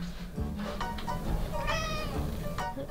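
A cat meows several times in short, drawn-out calls over a low background hum, fairly close, with no talking.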